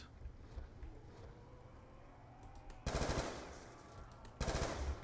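Assault rifle fire rings out in the Black Ops 2 Zombies map Buried. Two loud bursts of rapid automatic shots cut through a quiet, windy background with no talking.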